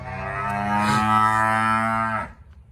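A single long, loud cow moo, close by in an old barn, holding steady for about two seconds before cutting off.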